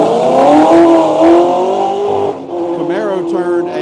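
A Camaro and a yellow Porsche launch down a drag strip at Quaker City, with loud, sustained engine roar and rising revs close by, dipping briefly before a second burst of acceleration.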